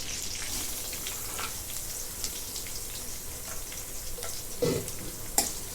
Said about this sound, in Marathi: आता कांदा भाजून घेते